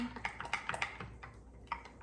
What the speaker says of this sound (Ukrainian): Гарно це все вимішаю.